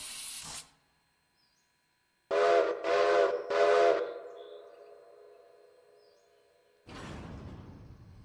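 Steam train whistle in the Railroader video game, a short opening blast followed by three loud tonal toots in quick succession, then a lingering fade and a final whooshing hiss.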